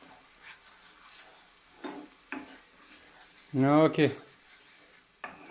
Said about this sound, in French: On fait revenir tout ça ensemble. Donc huile, tomate, épices.